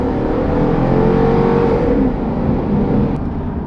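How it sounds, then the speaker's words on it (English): A Jeep on quad air suspension accelerates under light throttle, heard from inside as a loud, steady engine drone with tire and road rumble. The pitch rises slightly and no one speaks. "So if we just give it a little gas."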